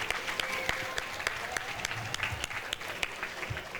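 An audience at a library foundation masquerade gala claps together in steady applause, the sharp claps filling the room at moderate volume with a faint murmur beneath.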